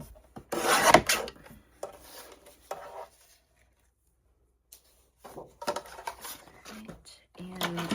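Script paper having its white edge trimmed off, with bursts of rasping cutting and rubbing close by, separated by quiet gaps and brief handling noises.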